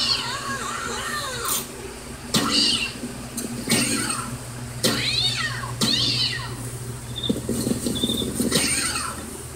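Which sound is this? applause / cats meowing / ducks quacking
cats meowing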